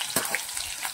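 Chopped onion dropped into hot oil for tempering, a close, lively sizzle with a sharp splash-like burst at the start and crackling bubbling after, no voices.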